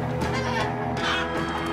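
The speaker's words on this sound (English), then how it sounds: "Out of my way, chickens." Chickens cluck in the Minecraft: Story Mode video game, a loud, continuous burst of overlapping fowl clucks with busy game sound beneath, with no talking.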